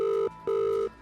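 A telephone rings at an ambulance emergency call centre, giving two short electronic trill bursts separated by a brief gap, clear and close.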